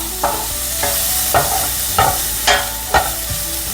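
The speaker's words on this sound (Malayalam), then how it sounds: "ഇനി നമുക്ക് ഈ സവാള നല്ലോണം വരട്ടിയെടുക്കാം." Sliced onions sauté in a hot pan, giving a steady close sizzle with about six evenly spaced spatula scrapes and taps as they are stirred. No voices are heard.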